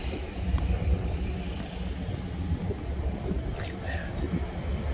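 Wind from Hurricane Ian's aftermath sweeps through a damaged residential community where roofs were torn off, a steady gusting roar buffeting the microphone, with faint background sounds mixed in.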